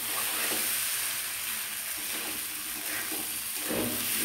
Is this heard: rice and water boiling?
yes